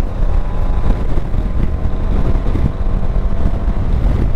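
Steady, loud wind roar buffeting close to the microphone as air rushes past an open helmet visor on a 2020 Maxsym TL 500 scooter, a continuous low rushing blast with no talking.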